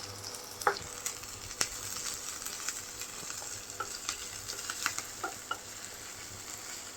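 Curry leaves sizzle in hot oil with crushed ginger, garlic and green chillies, a soft continuous crackle dotted with small sharp pops and occasional stirring taps.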